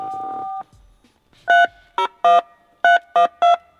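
A Mercedes W140 S600 car telephone gives a short steady tone, a brief pause, then six clear keypad dialing beeps in a quick, uneven sequence, loud and close.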